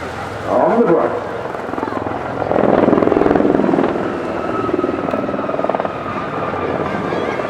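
A Gazelle helicopter flies nearby at an airshow with a loud rhythmic rotor chop and engine whine, swelling and easing as it passes, while people talk over it.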